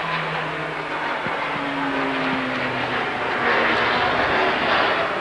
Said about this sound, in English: Marker looks skyward as a plane comes over the top of us.